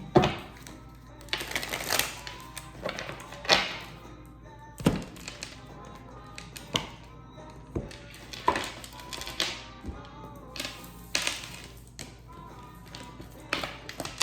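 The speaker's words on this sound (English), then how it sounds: "Shuffling for Aquarius, bitty bum bum energy." Tarot cards being shuffled by hand: a series of irregular taps, thunks and riffling bursts, close and fairly quiet, repeating in clusters with brief pauses between them.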